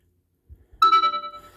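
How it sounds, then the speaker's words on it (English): An emporia SMART.6 5G smartphone plays its text message notification: a single bright electronic chime that rings out clearly and then decays over about a second, heard alone after a couple of faint low bumps. "So that's the text message noise there."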